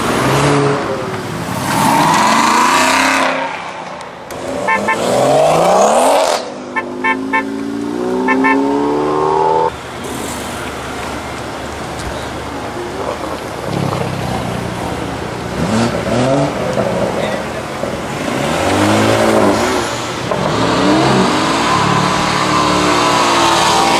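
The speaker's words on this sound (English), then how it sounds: "You can rev away, but you're not moving." A car engine revs hard while standing still at a karting and car event, loud sweeping rises and falls in pitch repeated over and over, close and dominant with occasional gear-like pauses.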